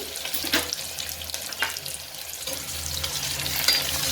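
Onions with a pinch of salt frying in a pan, a continuous hissing sizzle with a few soft stirring scrapes, steady and fairly close.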